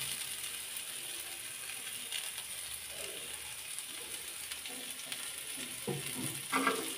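Bottle gourd peel bhaji fries in a pan, a quiet, steady sizzle with soft scraping stirs that grow louder and clatter toward the end.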